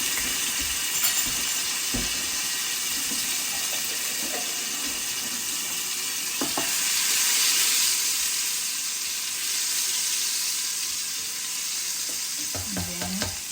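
Minced garlic frying in olive oil as the first step of a pork menudillo, a steady close sizzle with occasional scrapes and clinks of a utensil in the pan.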